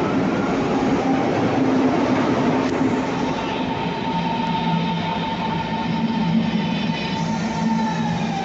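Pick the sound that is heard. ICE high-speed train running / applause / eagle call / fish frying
ICE high-speed train running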